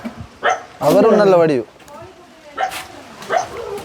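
A puppy gives short, high yips and barks close by, interleaved with people talking.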